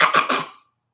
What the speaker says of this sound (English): I'm constantly clearing my throat and stuff.